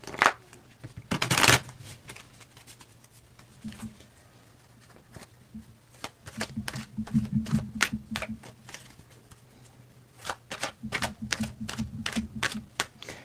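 Tarot cards are shuffled by hand in a quiet room, a run of crisp riffles and snapping slaps coming in irregular bursts, close and fairly loud, with a low hum underneath.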